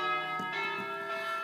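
Church bells ring on and on, their sustained tones layered in a steady wash with a few fresh strikes, heard at moderate level with no one speaking.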